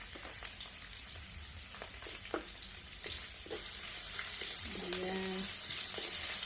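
Ginger frying in a pan for a Filipino ginataang dish, a steady soft sizzle with scattered crackles and pops, growing a little louder toward the end, with a brief spoken word.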